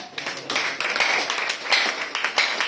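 Applause for a daughter at a French-speaking church gathering, a steady burst of many hands clapping throughout, fairly close and dense, with faint voices mixed in.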